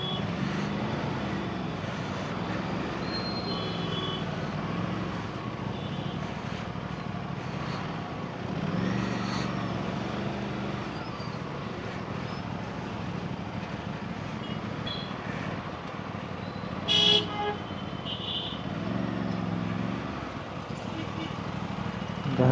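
Heavy road traffic heard from an Aprilia RS 457 motorbike on a hot-weather ride out of Omkareshwar toward Ujjain: a steady, dense rumble of engines and tyres with a brief horn-like burst near the end.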